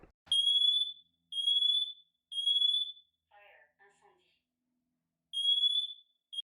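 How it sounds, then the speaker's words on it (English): A smoke alarm sounds piercing high beeps, long and evenly spaced, with a brief spoken voice in the pause between them. "when one alarm goes off, all the other alarms will go off too"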